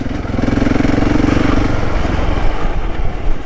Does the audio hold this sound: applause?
no